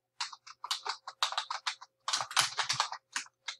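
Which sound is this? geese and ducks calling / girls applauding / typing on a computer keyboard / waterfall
typing on a computer keyboard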